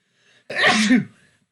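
A single sharp sneeze, one short burst with a brief breathy lead-in, close and fairly loud against near silence.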